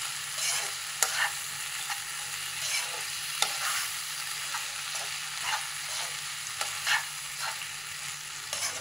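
Keema masala frying in a pan sizzles steadily while a spoon stirs it, with repeated scraping strokes and sharp clinks against the pan at an uneven rhythm, close and moderately loud, with no voices.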